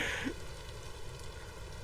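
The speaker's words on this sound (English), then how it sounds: "still raining." Steady rain falling in the video game Vintage Story at night, a continuous broadband hiss without pauses, with a brief brighter sound at the start.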